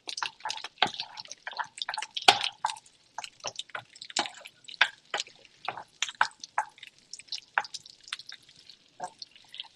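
Chopped onions cook in a hot pan and are stirred around to coat them while being caramelized for soft green beans, giving a steady crackle of sharp, close spatters and pops with no talking.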